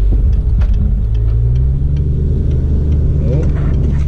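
A Jeep XJ engine idles steadily up close after flex plate repair work, a continuous low rumble with a faint rising whine and occasional clicks near the end.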